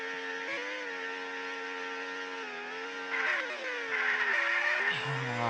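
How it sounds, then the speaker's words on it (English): A Formula-style race car in a 2D racing video game drones past with a steady synthetic engine whine, the pitch shifting as it accelerates and slows, fairly loud and alone without talking. "Sergio Perez stays out for another lap as he drives past our commentary box."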